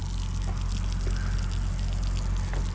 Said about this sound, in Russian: Сейчас кран сам поднимется и остановится вода.